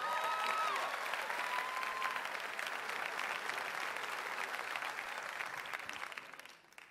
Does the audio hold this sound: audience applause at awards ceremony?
yes